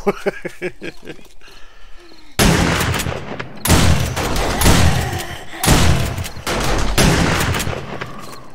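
Machine gun turrets fire in 7 Days to Die, sustained loud bursts of rapid gunfire starting partway through and rolling on in long volleys with brief gaps, after a quieter stretch with a hooting, tonal game sound.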